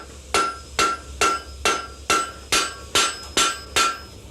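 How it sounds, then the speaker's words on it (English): A hammer knocking metal in a blacksmith shop, nine evenly spaced ringing strikes at a steady rhythm, loud and close, with no talk. "now I'm just going to knock that down a little bit with a hammer there"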